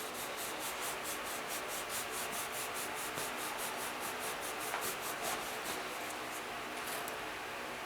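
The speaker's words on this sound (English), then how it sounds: "At a 45-degree angle, start pumping the flocker." A hand-pumped flocker puffs flocking fibers in a fast, even rhythm of soft rasping strokes, a repetitive brushy scrubbing that continues steadily and closely throughout without speech.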